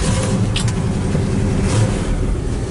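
Steady rumbling idle of a 1968 Oldsmobile 442 V8 engine, close and continuous, with a deep growl and slight surges in the exhaust note throughout.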